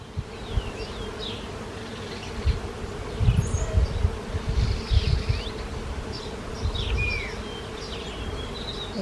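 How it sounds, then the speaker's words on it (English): Honeybees buzz steadily around a spring garden at Easter time, a dense, continuous hum of many insects close by with individual bees passing near, no voices. "I don't know if I can get this where you can see the honeybees, but maybe you can hear them"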